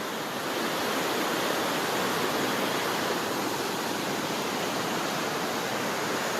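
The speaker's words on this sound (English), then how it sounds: "I am standing in the Lynn Canyon Reserve near a waterfall, between a waterfall and a rushing river." Water roars steadily between a waterfall and a rushing river in the Lynn Canyon Reserve, a dense, unbroken hiss at constant level, with no voices present.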